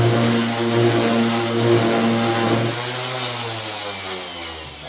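An electric hand planer levels the plywood subfloor of a Ford Transit van build, running as a loud, steady motor drone that dips in pitch and slows toward the end.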